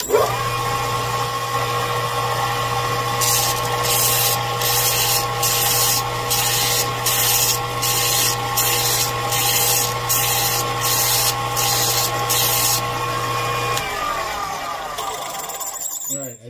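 Steady grinding hum of a power tool trimming a metal bottle-cap flange, broken by a regular series of rasping bursts as the cap is worked, close and loud.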